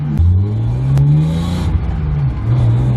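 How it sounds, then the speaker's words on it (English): Drift car engine at a Halloween drift night revving hard: a loud, close mid-range roar climbing and dropping in pitch over a few seconds, with clatter and a couple of sharp pops. "Clutch in. Rev it, rev it, rev it."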